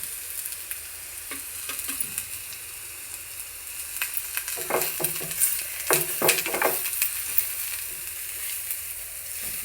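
Sliced onions frying in a little oil for a sweet mango curry, with a steady crackling sizzle and intermittent scraping stirs that grow busier midway, close and moderately loud with no voices.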